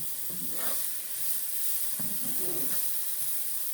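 Onions frying in butter and olive oil in a non-stick pan over medium-high heat, giving a steady soft sizzle broken by a few stirring scrapes, quiet and close, with no talk.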